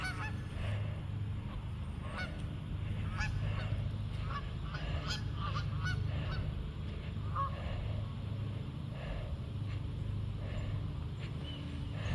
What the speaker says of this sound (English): There's thousands of ducks and geese.